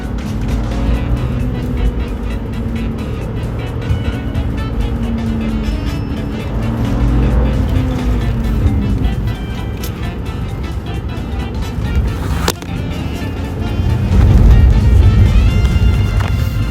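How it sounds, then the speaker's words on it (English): BMW 5 Series engine pulls hard under heavy acceleration, a loud sustained roar heard from inside the car, with rising engine pitch and a final surge of power. "We're gonna open up the 5 Series a little bit, just see what owning a BMW is all about."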